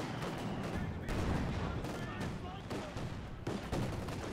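Dense, continuous battle noise from Company of Heroes 2, with rapid gunfire and fusillades aimed at British 6-pounder anti-tank guns, loud and steady throughout with occasional heavier bursts.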